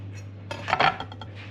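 A small piece being cut with a wooden knife, heard as a short cluster of light scraping and tapping strokes that rises briefly and fades, close and fairly quiet over a steady low hum, with no voices.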